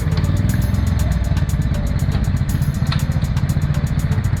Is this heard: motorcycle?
yes